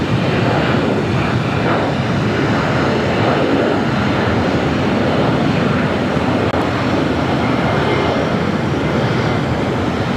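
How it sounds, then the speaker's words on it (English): A corporate jet rolls down the runway at LAX, a steady loud broadband engine roar that stays constant and fairly near throughout. "We've got one of those corporate jets rolling down."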